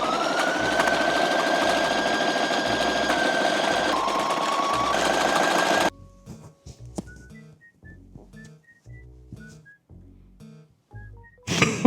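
A sewing machine stitching a buttonhole on a penguin costume runs in a fast steady whir for about six seconds, then stops, leaving faint taps and handling noises before a brief final burst.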